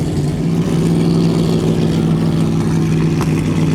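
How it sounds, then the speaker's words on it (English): Chrysler Slant 6 engine with headers running in a vintage race car at a hillclimb, a loud, close, steady idle with a deep throbbing exhaust tone. "So a Chrysler Slant 6."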